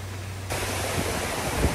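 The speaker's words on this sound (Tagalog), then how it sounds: "So sa wakas, andito na yung waterfalls." Steady broadband rush of Daday Waterfalls in Alamada, Mindanao, a constant hiss of falling water that swells noticeably partway through and then holds even, with no voices.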